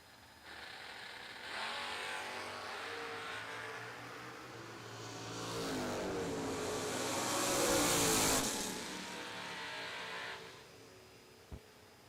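A Camaro Roadster dragster at a drag racing event roars from a distance, its engine swelling to a louder peak and then fading away, with a brief sharp click near the end.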